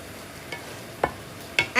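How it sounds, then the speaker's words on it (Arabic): Rice stirred gently with a spoon in ghee and oil for a minced-meat kabsa, a soft steady sizzle broken by a few light scraping strokes against the pot, close and without talk. "هتقلبي بمعلقه خفيفه كده علشان الرز ما يتكسرش منك"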